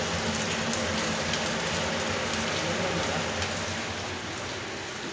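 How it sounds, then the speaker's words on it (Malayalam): Heavy rain pours outside in a steady, dense wash of noise, with faint scattered drop impacts and no talk, easing a little toward the end. "നല്ല മഴ"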